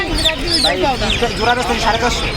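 At a duck and chicken market in Tongi, chickens cluck and chirp close by in a busy stream while a voice talks over them.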